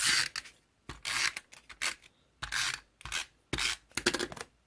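Paper trimmed for a handmade card, heard as a series of short, close rasping cuts in bursts separated by brief pauses, with no talking.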